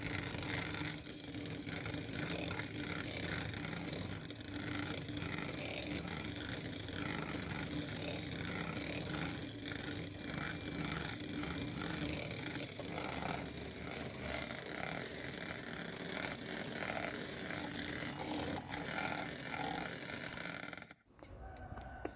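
An electric mixer whirs steadily while beating egg yolks for kaastengel cookie dough, a continuous close buzzing drone that runs unbroken until a brief cutoff near the end.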